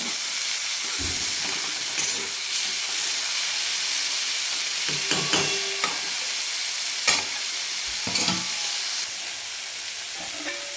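Prawn chutney stirred and cooking in a hot pan, a steady sizzling hiss with scattered scraping stir strokes and clinks, fairly close and continuous with no voices.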